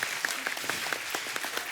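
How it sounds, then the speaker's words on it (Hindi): Studio audience applause on a Hindi comedy talk show, a continuous crowd of hands clapping evenly with scattered sharper claps, sustained and without speech. "एक बार जोरदार ताली हो"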